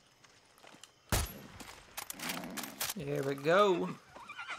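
A horse whinnies loudly after a few hoof thuds in the video game Far Cry 6, with a voice speaking briefly before it.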